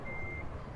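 A truck in American Truck Simulator backs up without its trailer, giving a single steady reversing beep tone over a low engine rumble, moderately loud and very brief, with no talking.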